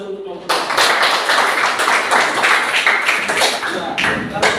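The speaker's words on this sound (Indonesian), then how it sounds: "berikan aplaus untuk kelompok" A classroom audience claps for a presenting group, dense hand clapping that starts abruptly and carries on steadily for about four seconds.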